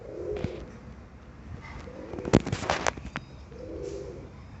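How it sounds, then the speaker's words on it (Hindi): Pigeons coo softly in low, rolling bursts, with a brief flurry of flapping or scuffling in the middle. "दोस्तों ये हमारे कबूतर है"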